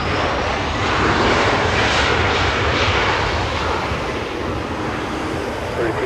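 Jet airliner engines roaring steadily at LAX airport, a loud, broad continuous roar that swells slightly and then eases, with faint voices in the background.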